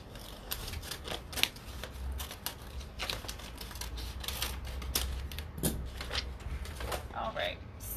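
Scissors snip through a Prima transfer sheet in quick, irregular crisp cuts close by, a continuous run of sharp snips and paper rustles over a faint background.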